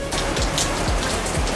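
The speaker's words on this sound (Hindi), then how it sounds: "भाई जैसे ही मैं जाने लगा बारिश तेज हो गई है।" Heavy rain pours down in a dense, steady hiss, with close drops splattering on a hard surface.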